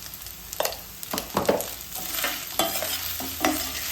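A spatula stirs ajwain rice with salt in a hot pan, with repeated close scraping strokes over a steady, soft sizzle of frying.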